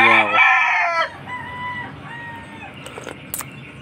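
A fighting cock on a farm gives a loud, close crow that breaks off after about a second, followed by softer clucks and murmurs with faint clicks in the background.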